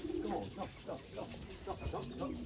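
Racing pigeons coo in repeated soft, rhythmic calls near a landing platform, close and moderately quiet, with no speech.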